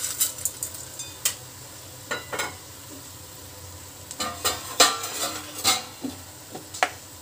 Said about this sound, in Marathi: आता त्याच्यामध्ये हे सांडगे टाकायचे आहेत